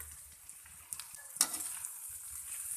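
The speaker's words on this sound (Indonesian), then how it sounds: "Diaduk-aduk supaya kecap, bumbu-bumbunya tercampur sempurna dan matang merata" Fried noodles with sweet soy sauce and seasoning being stirred in a pan at home, giving a soft, steady sizzle with scattered scraping and clinking of the utensil, one louder clatter partway through, no talking.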